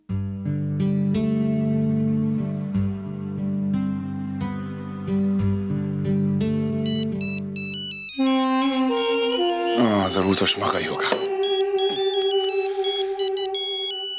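A mobile phone ringtone plays a bright electronic melody for a long stretch, loud and continuous, shifting to a busier tune partway through; someone speaks briefly over it in a Hindi television drama scene.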